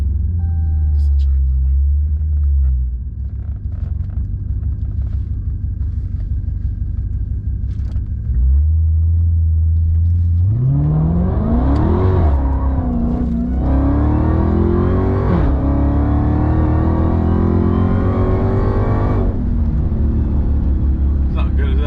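A Hellcat-engined Chrysler 300 idles with a deep low rumble, then revs hard in repeated rising surges that hang at high pitch, loud and close, with people talking around it.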